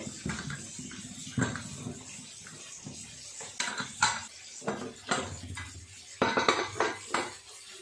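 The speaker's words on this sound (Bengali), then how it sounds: "প্রেসার কুকারটা তো ঠান্ডা হয়ে গেছে, খুলে এবারে জল ঝরাতে দিয়ে দেবো" A cooled pressure cooker is opened after boiling taro leaves, and metal pots and utensils clatter and clank in uneven bursts close by in a home kitchen.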